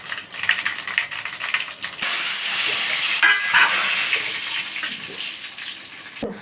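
Mustard seeds and cumin crackle and spit in hot oil as the base for a brinjal and potato masala curry, a bright, busy sputter that settles into steady frying, with a couple of sharp knocks and no talk.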